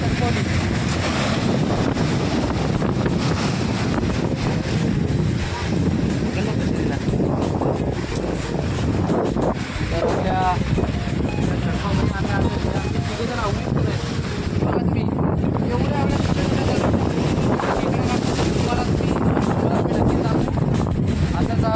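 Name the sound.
Arabian Sea waves during high tide, wind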